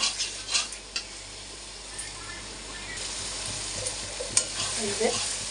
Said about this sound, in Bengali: মশলাও আমার কষানো হয়ে যাচ্ছে তেল ফেলে দিচ্ছে